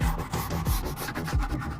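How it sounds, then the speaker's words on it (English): A sanding sponge rubs over cabinet surfaces being prepped for paint, making quick rhythmic back-and-forth scratchy strokes, close and clear with no voices. "sanding the areas that you're going to be painting"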